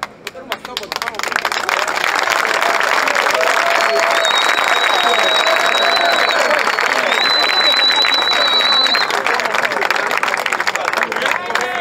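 A large outdoor crowd claps and cheers steadily at a vigil in Luanda, Angola, honoring a rapper, with sustained applause, whistles and a voice speaking over it.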